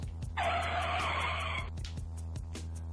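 Car brakes locking up into a tire skid, one sustained squeal lasting a little over a second over a steady low hum, fairly loud and alone.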